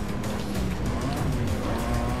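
A Volkswagen Golf's engine in Need for Speed Carbon, driven hard and downshifting, roars continuously and loudly with steady droning tone and some tire noise, no pauses.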